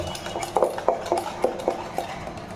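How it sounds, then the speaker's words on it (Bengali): Dhokla batter with Eno being mixed in a bowl, heard as a quick close series of soft spoon knocks and scrapes in a steady rhythm, with no voices. "ইনো দিয়ে ব্যাটারটাকে ভালো করে মিক্স করে নেব।"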